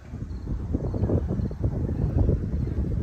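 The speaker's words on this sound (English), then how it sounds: "It's rainy, it's windy." Wind gusting through the woods on a rainy day, a steady low rushing roar with buffeting microphone noise that swells and dips without pause.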